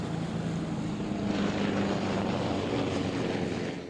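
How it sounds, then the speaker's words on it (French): A loud, steady military helicopter roar with a low thrumming rotor beat overhead at a beach in Capbreton, France, during a sea rescue exercise, fading slightly at the end. "des bruits de pales retentissent sur la plage de Cap-Breton."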